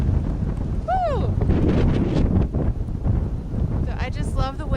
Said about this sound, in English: It is ridiculously windy out